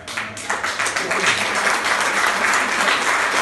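An audience claps loudly at a cultural event in Agropoli, a dense, continuous burst of applause filling the room and building quickly at the start.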